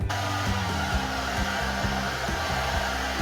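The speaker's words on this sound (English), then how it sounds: "I'm impatient, so I have a hair dryer" A hair dryer blows continuously up close, drying a wire and stocking sculpture, a steady whooshing roar with a shifting motor whine underneath.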